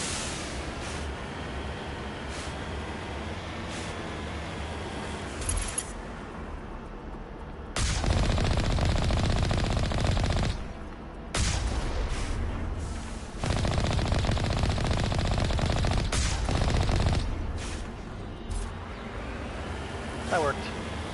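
Tank cannon blasts and rapid gunfire from the Mass Effect video game, with sustained loud bursts of shooting alternating with quieter stretches of engine rumble and game ambience.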